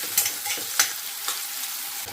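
Vegetables frying in a pan sizzle steadily while a utensil stirs them, giving several distinct scraping clinks spread unevenly over the sizzle.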